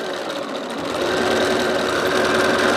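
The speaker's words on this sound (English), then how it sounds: "now what we are doing is stitching our heart fabric down" An embroidery machine stitches heart-shaped fabric down onto a lumbar pillow panel, a steady, close, continuous mechanical whir and rapid needle chatter that grows slightly louder partway through, with no voices.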